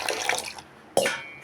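Thin, watery rava dosa batter is lifted and poured, giving a brief liquid splash and trickle, then a second short splatter, close and clear.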